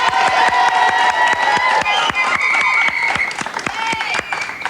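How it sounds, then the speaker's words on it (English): A studio audience breaks into loud, sustained applause with dense rapid clapping, cheering and children shouting over it, close and continuous throughout. "I think she deserves a nice round of applause for that"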